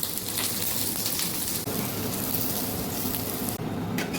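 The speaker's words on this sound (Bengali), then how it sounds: "এই কড়াটা বসিয়ে দিলাম, আর এটা এখন ভেজে নিচ্ছি" Oil sizzles steadily in a kadai while ingredients fry for an egg kosha, a dense, continuous crackle that holds close and fairly loud throughout, with no voices.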